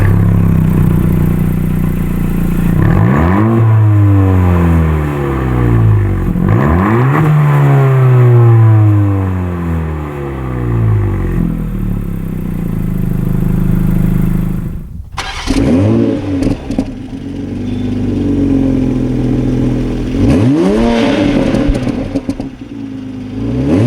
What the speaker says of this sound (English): let's listen to the exhaust note between this Honda Civic Si and the Toyota GR Supra